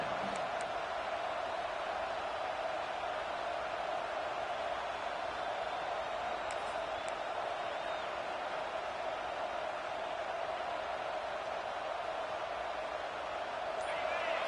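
Stadium crowd noise from a college and pro football video game, a steady dense roar that holds evenly throughout, with a commentator's voice faintly over it.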